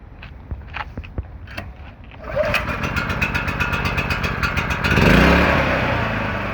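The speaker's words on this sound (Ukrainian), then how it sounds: "пробуємо запускати ліфан" A Lifan KP3500iO inverter generator cranks with a few sharp pulls, then catches and settles into a steady, close running drone that grows louder and rougher as it revs up near the end.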